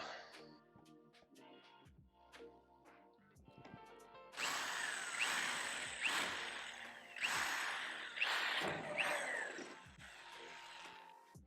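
Power drill with a 3/16 inch bit boring through a plastic side flare on a T1N Sprinter van. Quiet handling noises come first, then about seven seconds of loud whirring in pulsing bursts.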